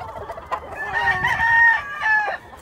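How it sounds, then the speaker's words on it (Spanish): McLean gamecock roosters crow loudly and close by over a backdrop of scattered clucking, with one long crow dominating the middle and shorter calls overlapping around it. "Sí, ahí como ven los gallitos muy activos. Se miran muy activos los gallos."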